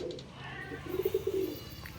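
A tumbler pigeon coos in a pigeon loft, a short run of soft, low, rolling coos in the middle of a quiet room, fairly close.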